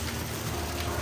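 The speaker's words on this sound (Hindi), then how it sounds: "अभी हो रही है एकदम मस्त वाली बारिश" Rain falls steadily at night as a dense, even patter that fills the brief moment with no talk.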